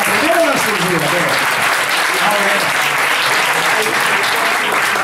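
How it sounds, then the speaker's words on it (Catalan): Audience applause, a loud, sustained crowd clapping that fills the whole stretch, with a voice briefly speaking over it at the start. "Un aplaudiment, sisplau."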